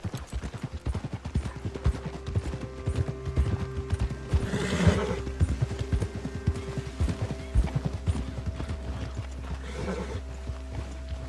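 Hooves clip-clop in a steady rhythm as a horse rides along in Red Dead Redemption 2, with loud whinnying neighs rising over the hoofbeats partway through and again near the end.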